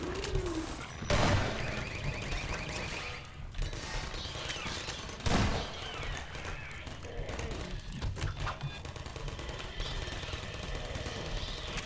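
Gunfire in the Half-Life mod Minerva rattles in rapid bursts, with two sharp, heavier blasts standing out amid continuous clattering shots and game noise.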